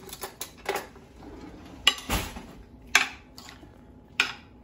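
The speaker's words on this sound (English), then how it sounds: "I'm just gonna give this a quick stir." A spoon clinks and scrapes against a bowl while bulgur salad is stirred, giving several separate, fairly close knocks spread over a few seconds with quiet gaps between them.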